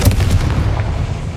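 A Confringo fire spell from Hogwarts Legacy bursts with a heavy, booming blast at the start, its low rumble trailing off over the following second.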